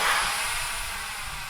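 An RC model jet, an FA-XX capable of thrust vectoring, passes overhead with a loud, steady turbine-like whoosh that is strongest at the start and eases slightly as it moves away.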